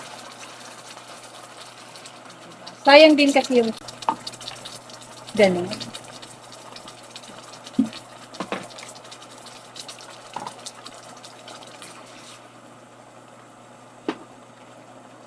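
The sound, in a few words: water poured into sardines in the pan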